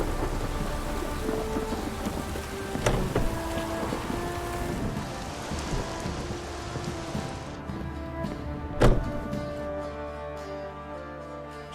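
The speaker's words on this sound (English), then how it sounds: "Raining, my arse will rot off." Steady rain and rolling thunder in The Witcher 3, a constant dense hiss of falling rain with two sharp thunder cracks, the second louder, and low rumbles beneath; no talk.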